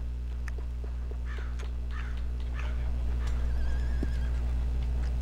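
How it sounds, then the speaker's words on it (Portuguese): In the Red Dead Online video game, a horse gives a brief whinny amid quiet ambient game sound, with faint bird caws and light hoof clopping in the background. "tem cavalo"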